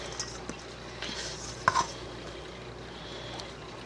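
Spoon stirring melting chocolate in a pot, faint scraping swishes with a couple of brief clinks against the metal, close and quiet with no voices.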